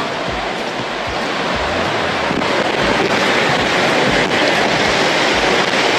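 Loud, constant rushing of wind and driving rain, with low gusty rumbles buffeting the microphone throughout.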